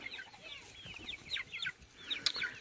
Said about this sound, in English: So we have a bunch of chickens.